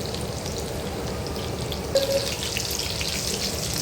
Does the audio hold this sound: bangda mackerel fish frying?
yes